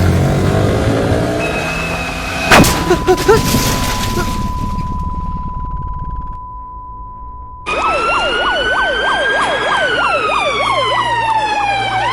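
Ambulance siren after a Yamaha R15 motorcycle accident on the Porur to Poonamallee road: a steady tone and street noise give way to a loud, close, rising and falling wail.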